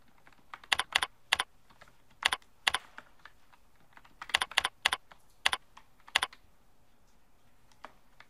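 Quiet, close keystrokes on a computer keyboard as a user ID and password are typed, coming in short irregular clusters of clicks with pauses between.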